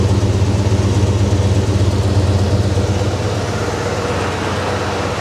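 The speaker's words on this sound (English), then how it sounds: "Listen to that exhaust." Loud, rumbly idle of a 1982 Ford F150 XL pickup's exhaust, long unused, a steady throbbing low pulse close by with no voices.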